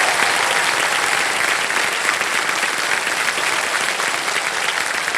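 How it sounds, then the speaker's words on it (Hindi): Studio audience applause on a televised quiz show, loud, continuous clapping from a large crowd, even and dense throughout without talk over it. "जोरदार तालियां बज जाए के लिए।"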